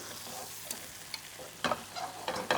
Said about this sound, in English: add a little bit of that beef fat that I had in there, and you'll hear that sizzle again